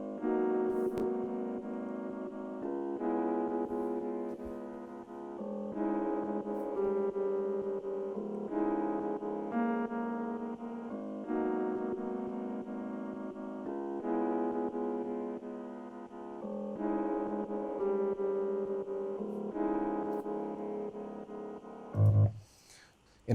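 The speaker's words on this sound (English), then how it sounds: "the piano itself sounds like this" Programmed jazz piano chords, voiced to sound humanly played, ring out in a loud, close, sustained progression of shifting harmonies, changing every few seconds with no voices, ending in a brief low thump.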